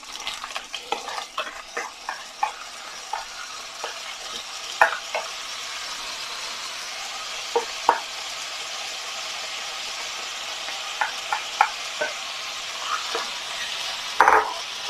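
Washed rice tipped into a pan of cumin over a low flame for jeera rice, giving a steady close sizzle with repeated scraping stirs and clicks throughout.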